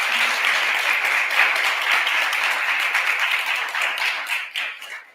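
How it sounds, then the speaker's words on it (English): Round of applause for guests at a Kid Governor inauguration day news conference, with a room full of hands clapping steadily, then thinning into a few scattered claps as it fades out. "Let's give them all a round of applause."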